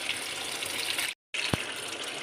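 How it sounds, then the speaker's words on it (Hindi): Water pours into a pot of mutton pulao, a close, gushing splash that cuts out briefly and then resumes with a small clunk. "मैं इसमें पानी डाल दूँगी"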